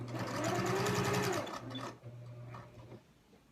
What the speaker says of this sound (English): I'll show you after I'm done sewing this